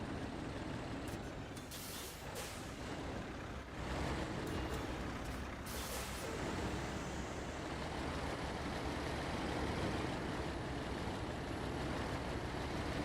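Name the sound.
TerraPro truck hauling logs uphill, from a video game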